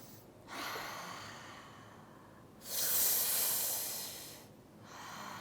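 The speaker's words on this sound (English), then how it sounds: "Everybody breathe together." A group breathes slowly and deeply from the belly, with long audible inhales and exhales in two or three unhurried cycles, close and quiet.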